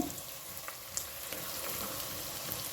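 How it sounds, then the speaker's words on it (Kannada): Chopped cabbage going into a sizzling tempering and being stirred: steady frying hiss with light crackles and soft scraping, fairly faint and close. "ಇವಾಗ ಇದಕ್ಕೆ ಕ್ಯಾಬೇಜನ್ನು ಕಟ್ ಮಾಡಿ ಇಟ್ಟದನ್ನು ಸೇರಿಸ್ಕೊಳ್ತೇನೆ"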